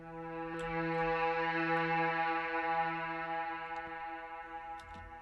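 A brass ambience sample pitched up four semitones with fades, a soft sustained chordal drone swelling in and easing out, faint and alone, dotted with small clicks.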